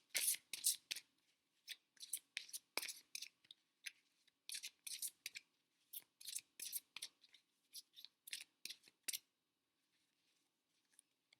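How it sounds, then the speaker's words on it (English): Angel Tarot and Goddess Guidance Oracle cards are shuffled close up in a quiet room, with crisp riffling bursts coming in quick uneven clusters for about nine seconds before stopping. "I'm going to pull a few cards from the Angel Tarot cards and from Goddess Guidance Oracle cards"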